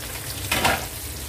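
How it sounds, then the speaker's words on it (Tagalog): Onion and garlic sauté in a pan, a steady close sizzle with a brief louder burst of frying and stirring partway through, no voices. "Sa pag-gisa lang kailangan na medyo palabasin natin yung flavor ng sibuyas."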